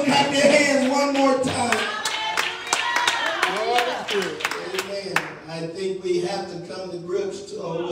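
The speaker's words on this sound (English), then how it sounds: "Clap your hands one more time." A church congregation claps hands in quick rhythmic unison during a worship service, loud and close, with voices and singing underneath before the claps trail off.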